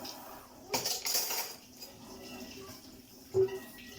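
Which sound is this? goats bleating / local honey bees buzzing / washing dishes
washing dishes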